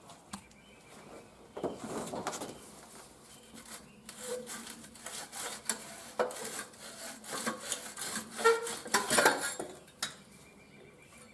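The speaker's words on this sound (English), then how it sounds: "Just got the front part of the muffler off pretty easily." A Suzuki Intruder motorcycle's loosened front muffler section slides off, giving close scraping, rubbing metal sounds with light clanks that build toward the middle and then fade.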